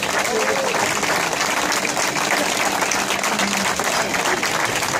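Strong, steady applause from a crowd at an international blacksmiths' gathering, dense continuous clapping filling the whole stretch at an even level.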